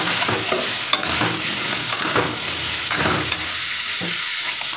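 Potatoes seasoned with salt and turmeric frying in hot oil, a steady close sizzle with occasional stirring clinks and scrapes, no talk.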